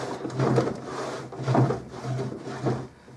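A waxed wooden drawer on an antique nightstand slides in and out four times in a steady rhythm, each pass a close, soft rubbing scrape with a low hum beneath.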